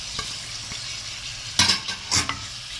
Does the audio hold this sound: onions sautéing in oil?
yes